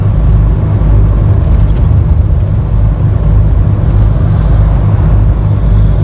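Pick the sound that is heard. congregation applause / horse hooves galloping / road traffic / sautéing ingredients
road traffic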